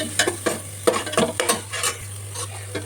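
Green chillies sautéed in a pan for Kozhikode biriyani, stirred with a spoon in short repeated scrapes over a steady oily sizzle, close and fairly loud.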